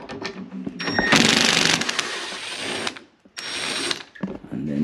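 A power driver backs quarter-inch screws out of a hinge on a GE dishwasher, two close bursts of whirring and ratcheting separated by a short pause.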